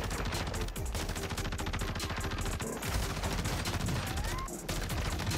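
Rapid automatic fire from a Tempus Razorback assault rifle in a first-person shooter video game, a loud continuous stream of shots with a few brief pauses, dense and close throughout.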